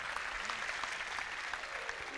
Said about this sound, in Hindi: तो बापा के लिए ताली हो जाए.